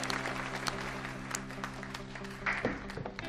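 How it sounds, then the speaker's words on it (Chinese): An audience claps for an award winner at a ceremony: a short stretch of moderately loud, continuous clapping from many hands, heard from a distance. "这么多竞争对手为我鼓掌，这种感觉还挺奇妙的"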